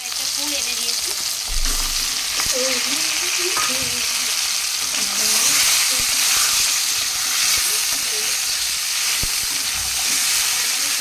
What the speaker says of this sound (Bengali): দেখো তেলের মধ্যে জিরে ফোড়ন দিয়ে দিয়েছি, আর এই যে আলুগুলো দিয়ে দিচ্ছি।